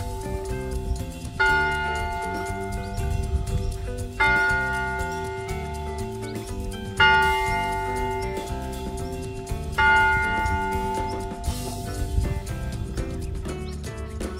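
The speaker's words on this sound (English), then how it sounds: "The bell rings when it's the top of the hour." A church bell tolls repeatedly at the top of the hour, its strong sustained ringing strikes recurring every few seconds and layering into a loud, resonant tone close by, with no talking.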